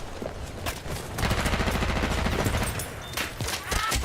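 Rapid gunfire from the video game Battlefield 1 rattles in dense, loud bursts, with sustained automatic fire through the middle and sharp shots at the end; no one talks.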